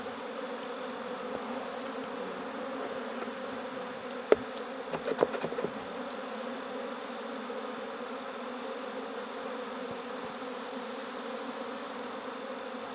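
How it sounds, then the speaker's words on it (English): A dense, steady buzzing of a honeybee swarm in a feeding frenzy surrounds the listener for the whole stretch, with a few brief nearby clicks and knocks partway through. "As I'm sitting here in the middle of a feeding frenzy swarm."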